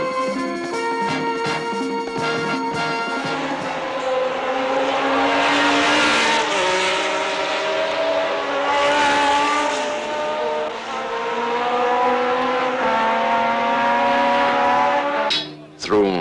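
Formula One racing cars from mid-1970s Fiat and Ferrari racing: high engines wail loudly and continuously as they pass and shift, with tire squeal, nearly the whole time.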